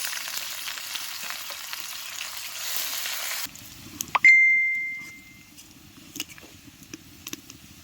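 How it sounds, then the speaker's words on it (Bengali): Onions fry in a pan with a bright, even sizzle for a few seconds. Then the hiss cuts out, a clear electronic ding rings once, and only faint clicks remain. "পেঁয়াজটা আগে ভেজে নেব"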